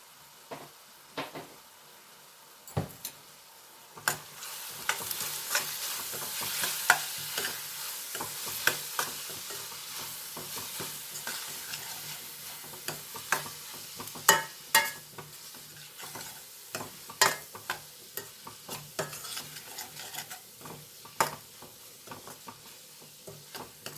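Spices, including a pinch of cumin powder, being stirred in a sizzling pan for egg curry, with steady scraping strokes over a constant frying hiss.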